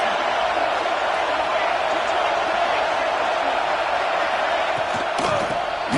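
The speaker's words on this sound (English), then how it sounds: "This crowd is trying to inspire this defense to make a big red zone stop" A packed stadium crowd at a Texas versus Alabama football game roars in a steady, dense wash of noise throughout, with faint thuds and shouts now and then.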